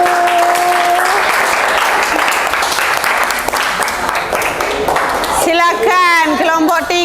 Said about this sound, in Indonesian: Silakan tepuk tangan terlebih dahulu.